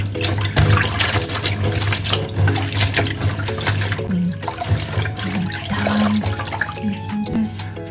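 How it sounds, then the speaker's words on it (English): Tap water runs steadily into a sink while vegetables such as bulb onion, chili and chives are washed, a continuous splashing flow with faint background tones and occasional clatter. "So I'm going to go wash these vegetables."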